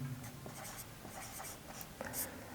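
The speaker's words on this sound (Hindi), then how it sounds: "एक चीज़ हम यहाँ पे लिख देते हैं" Pen or chalk writing notes on a board, short soft scratching strokes in quick succession, close and faint, with no talking.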